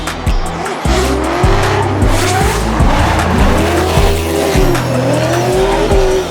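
Drift cars at a D1NZ round at Mt Smart Stadium, one a GT86, screeching through a skid with long wavering tyre squeals over loud, rising and falling engine revs, close and continuous throughout.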